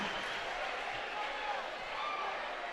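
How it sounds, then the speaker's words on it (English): Crowd cheering and applauding at a boys' high school basketball game, St. Bernard at New London, a steady, dense roar of many voices filling the gym for a few seconds. "Listen to the crowd."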